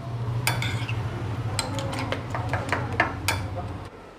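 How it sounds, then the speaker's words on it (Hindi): A spoon clinks and scrapes against a bowl, mixing two eggs into a cooled fried mixture for bread cheese toast, in a series of irregular close knocks over a low steady hum. "चम्मच की मदद से अच्छे से मिक्स कर लें।"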